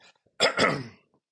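A single short, harsh cough, close and fairly loud, with brief quiet before and after.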